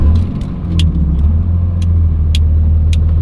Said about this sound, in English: It might be an exhaust brake.